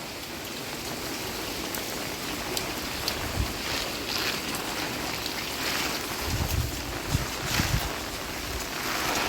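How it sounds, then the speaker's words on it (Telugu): Wind blows outdoors in Ongole as a steady hiss, with a few heavier gusts that thump and rumble against the microphone, and no one speaking. "గాలి కూడా స్టార్ట్ అయింది సార్"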